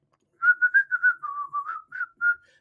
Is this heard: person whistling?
yes